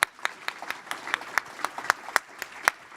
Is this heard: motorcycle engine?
no